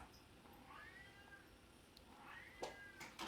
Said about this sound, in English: You can hear my hungry cat in the background.